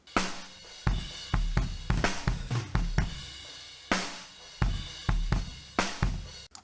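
Low end of a drum kit through a kick-snare mic, a run of heavy booming kick thumps and snare hits in a steady rock groove, close and loud with short rumbling decays.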